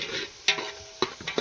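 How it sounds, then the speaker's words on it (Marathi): Home-ground spices fry in oil for chicken biryani, a soft sizzle broken by three or four sharp scraping stirs of a spoon against the pan, close and fairly quiet. "मसाले आपले फ्राय होत आहे"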